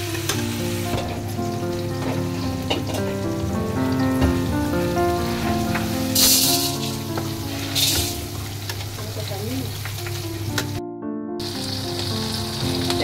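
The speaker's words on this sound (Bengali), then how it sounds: "দিয়ে দিলাম একটু রসুন, দেশি রসুন, যেহেতু আমি একটু তেল দিয়ে দিচ্ছি। সেটাকে একটু লাল করে ভেজে" Local garlic sizzling in hot oil in a pan, a steady close crackle and hiss with occasional stirring scrapes and no talk.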